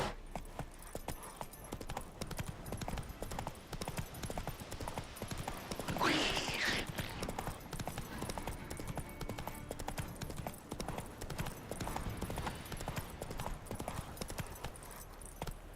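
The horse Roach gallops in The Witcher 3, a fast, steady clip-clop of hooves that runs throughout, with a brief louder burst near the middle; no one speaks.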